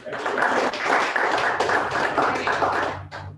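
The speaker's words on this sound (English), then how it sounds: "give everybody a big round of applause" An audience applauds at a board meeting, a dense, even wash of many hands clapping for about three seconds before it tapers off near the end.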